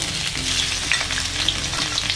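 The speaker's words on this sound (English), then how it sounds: "I am frying it using medium flame." Pork kidney with ginger sizzles and spatters in sesame oil over a medium flame, a steady close frying hiss with occasional stirring clicks, no voices.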